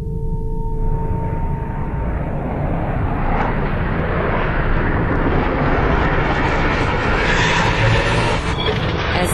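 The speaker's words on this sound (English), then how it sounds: "As this single-seat F-18 Hornet traps, the arresting cable stretches to the breaking point." Roaring jet engine noise as a single-seat F-18 Hornet traps on an aircraft carrier deck with the arresting cable, a loud, continuous broadband rumble with a rising tone throughout.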